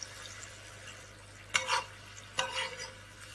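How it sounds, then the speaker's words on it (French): Chickpeas and coconut milk go into a hot pan with shrimp, giving a steady soft sizzle broken by two sharp bursts of hissing and stirring as the ingredients hit the pan, close by with no talking. "je vais rajouter mes pois chiches et verser sur l'ensemble mon lait de coco"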